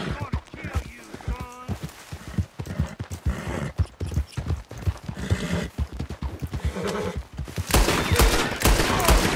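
Horses gallop and neigh in Red Dead Redemption 2, hooves pounding loudly amid bursts of gunfire, with a voice speaking briefly over the commotion and a harsh burst of noise near the end.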